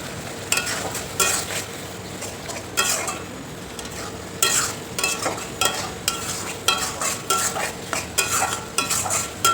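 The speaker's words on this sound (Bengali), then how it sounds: "তো দিয়ে দিলাম বাটা মশলাটা। আর এবার এটাকে একটুখানি কষিয়ে নেব।" Ground spice paste sautéing in a pan for a prawn curry, a steady sizzle broken by repeated scraping stirs of a spoon against the pan, close and fairly soft, with no talking.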